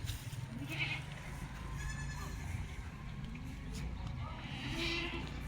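Goats standing in rows bleat a few times in an outdoor farmyard, mixed with background chatter and steady ambient noise.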